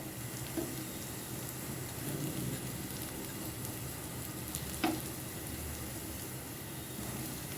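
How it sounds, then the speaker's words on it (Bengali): Soft, constant sizzling of pumpkin kebabs frying in a pan, fairly faint, with a couple of brief clicks from a utensil. "এখন আবার উল্টে দিব কাবাবগুলো প্রায় ভাজা হয়ে গেছে"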